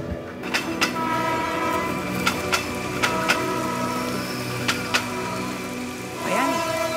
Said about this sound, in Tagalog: Kung kailang nagmamadali tayo, dun pa umulan.